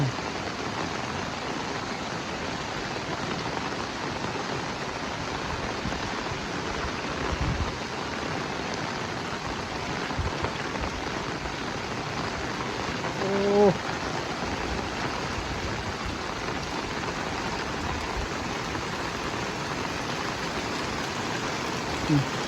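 Heavy rain pours down steadily in a broad, even hiss for the whole stretch, with a brief soft knock or two near the end.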